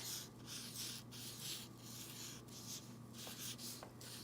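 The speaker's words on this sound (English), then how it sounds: "Let's see, I'll draw some flowers." A pencil rubs and scratches across a sheet of paper as flowers are sketched, in soft close strokes that come in short rhythmic bursts with brief pauses between them.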